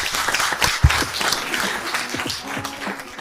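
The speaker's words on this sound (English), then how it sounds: "Please, a round of applause for our panel." A studio audience claps for a podcast panel on brand investment in high-attention media, a close, dense burst of applause that holds steady through the moment.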